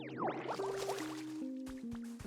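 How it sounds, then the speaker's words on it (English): Watering the ground in the Pokemon Pokopia video game: bright splashy liquid trickles and bubbly chimes layered over sustained tonal game music, continuous and close for a couple of seconds. "Let's try to water more of this ground while we're waiting."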